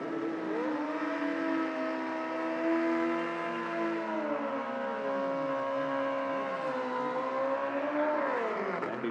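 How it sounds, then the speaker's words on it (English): A pair of Suzuki Hayabusa motorcycles at a no-prep drag race at Toronto Motorsports Park give a loud, sustained high engine drone whose pitch holds, dips and rises again over several seconds. "A pair of Hayabusas going to go at it here."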